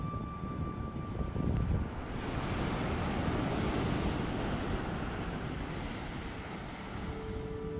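Ocean surf breaking on a beach with clear blue water, a steady broad wash of waves with some wind rumble, continuous and moderately loud throughout, no voices.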